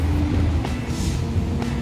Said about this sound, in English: Traffic is kind of noisy.